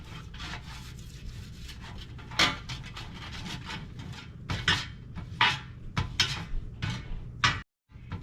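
Grease is spread by hand across a pizza pan, giving soft rubbing and scraping with sharper clanks and taps of the metal pan, fairly close and irregular, with a brief gap near the end.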